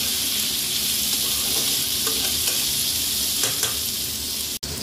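Cut potatoes fry lightly in a pan for Bengali lau shukto, a steady dense sizzle throughout with faint stirring clicks, close and fairly loud, no talking.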